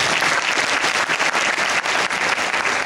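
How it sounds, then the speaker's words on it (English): Students at Miami Beach Senior High applaud their school principal, a loud, dense wash of clapping filling the whole stretch without a break. "Can I have a round of applause?"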